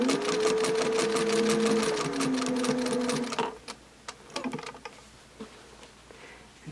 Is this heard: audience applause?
no